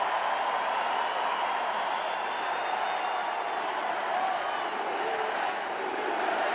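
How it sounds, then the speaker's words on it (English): A large political rally crowd roars continuously at a distance, a dense, even wash of cheering and shouting voices with no single standout sounds throughout. "Look at the crowds."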